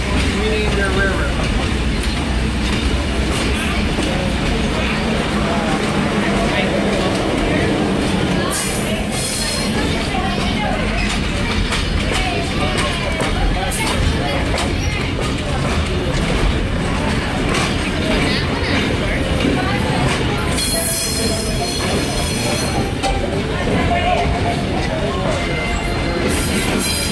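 Rumbling ride aboard a festival excursion train with fancy dinner cars, steady rail noise and wheel clatter throughout, with brief high squeals of the wheels and a crowd murmuring in the background.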